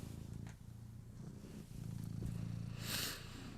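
A cat named Chaussette purrs steadily and softly at close range. The quiet, rhythmic rumble continues without a break, with a brief sniff or snort near the end.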